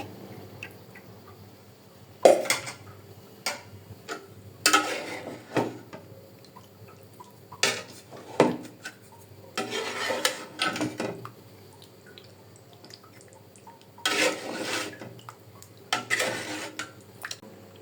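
Cooked chui pitha is stirred with milk in a pot: intermittent wet squelches, spoon scrapes and clinks against metal come in short bursts separated by quiet pauses.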